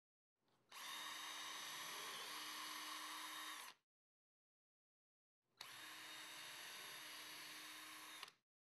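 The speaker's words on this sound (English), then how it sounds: "Next, mark and drill 5 pilot holes 7/8 of an inch from the edge-banded lower edge of the" Power drill boring five pilot holes along the edge-banded lower edge of a Murphy bed's front rail, heard as two steady, loud whining bursts of about three seconds each, separated by a short silence, with no talking.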